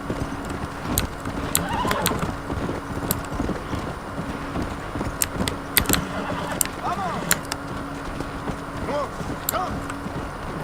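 In the video game Red Dead Redemption, hooves clip-clop steadily while a horse whinnies a few times, with scattered sharp clicks and faint background noise throughout.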